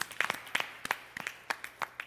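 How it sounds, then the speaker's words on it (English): At a Sunday puja in a Toronto Hindu temple, a small group claps briefly, a thin scattering of separate close hand claps with no steady rhythm and no talking. "Let's give a big round of applause."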